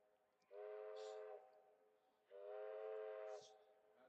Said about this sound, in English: That's just the train in the background.